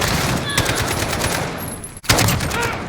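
Loud, rapid gunfire in a Call of Duty video game during a jumping shot, a continuous rattling burst with a brief cutoff near the end before the firing resumes.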